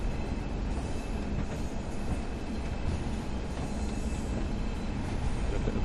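Train Sim World 5 service braking on the approach into Preston from Blackpool North, heard as a steady, loud rumble of wheels on rail with a faint squeal riding over it, continuous and unbroken, without any talk.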